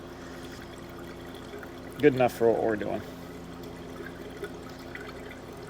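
Antifreeze glugging briefly from a container into a rail dragster's cooling system, a short burst of pouring lasting about a second, with someone talking quietly around it.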